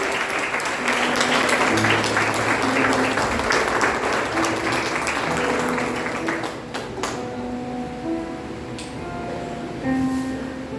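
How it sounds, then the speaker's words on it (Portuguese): A church congregation at a Portuguese-language service applauds, loud dense clapping that fills the room and then thins out, with sustained organ or keyboard tones underneath and a few scattered claps at the end. "que você aplaude o Senhor, em nome de Jesus"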